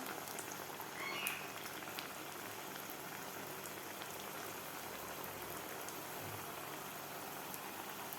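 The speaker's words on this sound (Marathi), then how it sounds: "अशा प्रकारे तेल गरम झालेलं आहे तर आता आपल्याला वडा सोडायचा आहे" Rava (semolina) medu vada frying in hot oil over medium heat, a steady dense crackling sizzle that runs throughout, close and even, with no talking.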